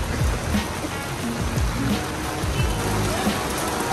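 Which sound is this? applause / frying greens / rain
rain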